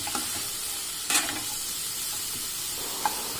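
Red spinach greens cooking on high flame, stirred in a pan: a close, steady frying sizzle with a couple of short scraping stir strokes, loud and continuous, no voices.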